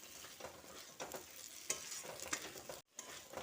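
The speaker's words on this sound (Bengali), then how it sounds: "পটলটা দিয়ে মশলার সঙ্গে ভালো করে মিশিয়ে নিচ্ছি।" Fried pointed gourd is stirred into masala in a pan for an egg and potol dish, giving quiet, close sizzling with irregular scraping strokes and a brief pause near the end.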